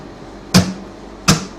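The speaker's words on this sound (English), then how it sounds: "which is just a muted strumming sound." Two muted guitar strums, each a sharp percussive chuck as the palm slaps the strings just before the pick sweeps through, played slowly and close with a quiet pause between them.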